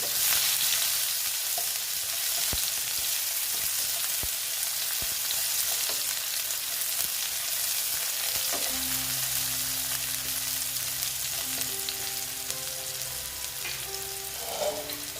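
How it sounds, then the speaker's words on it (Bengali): Onions frying in a pan give a loud, continuous sizzle close up, with faint stirring scrapes running through the steady hiss. "দিয়ে দিচ্ছি আমি পেঁয়াজ দেখো পেঁয়াজগুলো আমি এখন ভেজে নেবো"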